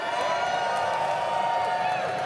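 A crowd at The International 2024 Dota 2 finals in Copenhagen, a dense continuous roar of cheering from a large arena audience heard as a steady wash.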